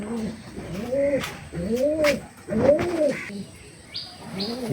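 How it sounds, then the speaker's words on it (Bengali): Red-colored pigeons coo in a loft, repeated rounded rolling calls about once a second, close and clear, with a few faint chirps and wing rustles behind. "এটা লাল চুলি কবুতর"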